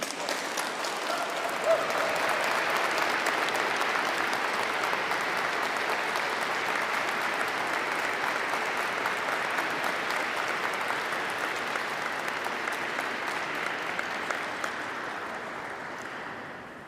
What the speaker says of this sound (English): acknowledge the faculty with a round of applause